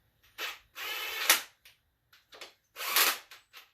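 A power tool whirs in short bursts as it runs bolts into a Quad 4 engine from the center outward, close and fairly loud, with several brief spins separated by pauses.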